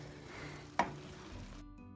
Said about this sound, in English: right now we browned our chopped meat